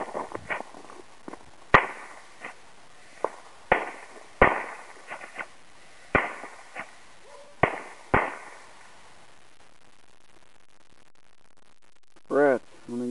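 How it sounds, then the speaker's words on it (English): Several firecrackers pop one after another at uneven intervals, sharp loud bangs with brief echoes, followed by quiet and a short voice at the end. "They're going to send firecrackers now,"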